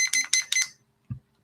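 An analog timer being set gives three quick metallic bell rings in rapid succession, then falls silent before a single soft knock.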